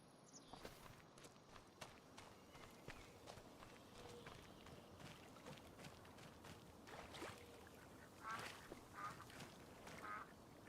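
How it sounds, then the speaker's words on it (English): Faint ducks quacking in a survival video game, with a few short nasal calls partly masked by the splashing footsteps of a character walking through water. "I hear some ducks"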